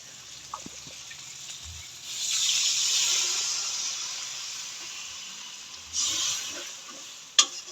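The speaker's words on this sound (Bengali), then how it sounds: "এবার আমি পরিমাণ মতো জল দিয়ে দেবো" Water hits frying masala in a pan, raising a bright hiss and sizzle that swells, eases off, then flares again briefly with a small clink near the end, close and fairly quiet.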